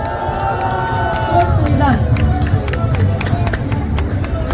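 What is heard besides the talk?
applause and cheering from rally crowd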